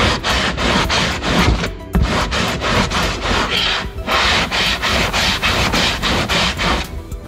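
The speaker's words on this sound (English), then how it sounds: "Just trying to file down a few bad saw spots here." Steady rhythmic rasping of a metal file smoothing rough saw-cut spots on a see-through full-size V8 engine build, repeated strokes close up, with a brief pause near the two-second mark.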